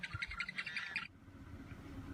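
Wild birds call outdoors at a wetland where wrens and red-winged blackbirds are present, a quick series of about five bright chirps in the first second, then faint ambient noise.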